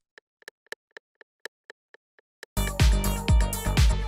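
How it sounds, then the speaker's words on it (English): A dry rimshot drum sample for a futuristic techno track ticks alone in a sparse, irregular pattern of short sharp clicks, then sits under a loud, dense techno mix with heavy kick drums. "It's just a simple little Rimshot sample."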